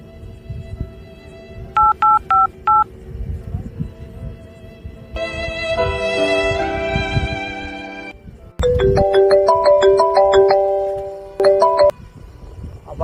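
Touch-tone beeps of a phone being dialed, followed by ringback and ringing tones, loud and close with brief gaps between the tone bursts.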